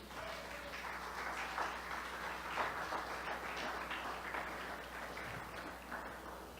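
A church congregation applauding, a moderate, steady patter of many hands clapping that swells and eases over several seconds in a reverberant room.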